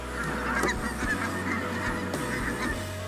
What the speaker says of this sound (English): The Ross's goose is quite common in Canada